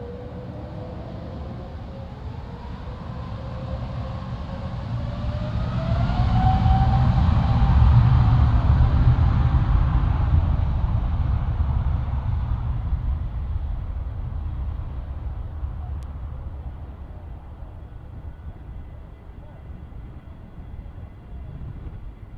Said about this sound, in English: out onto the runway for his display is the 787-9, the Dreamliner